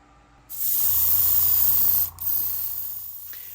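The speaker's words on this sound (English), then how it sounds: "For the chassis, we will begin with some black primer for our base coat." Black primer spray paint hissing onto the chassis of a resin Honda Integra DC5 model kit: two close, loud bursts, the first about a second and a half long, a brief pause, then a second shorter burst.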